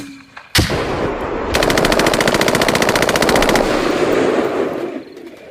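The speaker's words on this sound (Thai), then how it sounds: "ทหารรับจ้างทุกคนก็ระดมยิง M16 เข้าไปเคลียร์ในกระท่อมอย่างชนิดไม่เหลียง" Gunfire effect of an M79 grenade launcher blast followed by M16 rifles, a sharp loud explosion then a sustained rapid burst of automatic fire, dense and close, fading into a rumbling tail.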